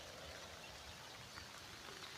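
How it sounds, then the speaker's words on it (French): Rain starting to fall beside a fishing pond, a soft continuous patter with faint scattered drops, quiet and without voices. "il commence à pleuvoir, donc c'est pénible"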